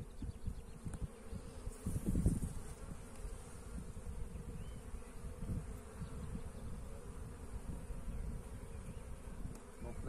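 Honeybees buzzing around an open hive during beekeeping work, a dense continuous drone of many insects close to the microphone with one louder pass.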